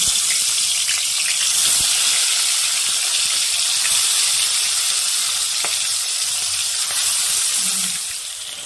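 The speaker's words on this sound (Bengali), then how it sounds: "তেলটা আমার গরম হয়ে গেছে, এবার মাছগুলোকে ভেজে নেব" Steady, loud sizzling of phali fish frying in hot mustard oil, a continuous crackling hiss with occasional pops, no voices.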